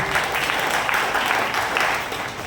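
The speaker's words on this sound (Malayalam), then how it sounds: "ഒന്ന് കൈയടിച്ച് ഈശോയ്ക്ക് നന്ദി പറഞ്ഞു" A crowd at a Christian prayer gathering applauds to thank Jesus. The clapping comes as a dense, fairly loud patter for about two seconds, then thins slightly toward the end.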